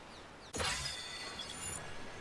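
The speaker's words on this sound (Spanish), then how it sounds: "No me había fijado que la piedra se empezaba a romper" Stone cracks and shatters in Ark Survival Ascended, a sudden bright break with scattered crumbling debris that rings on for about a second before fading under steady game ambience.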